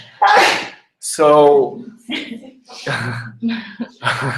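A single close sneeze bursts out at the start during a work presentation, followed by people talking nearby.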